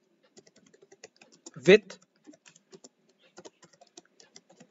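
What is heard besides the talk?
typing a search into a computer browser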